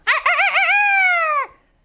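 A single long rooster crow, loud and close, rising and then holding steady before cutting off sharply, followed by silence.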